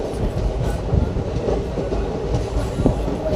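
A train rolls along the railway near Almatti with steady clickety-clack from the wagons, a continuous close rumble with periodic wheel knocks, and no talking.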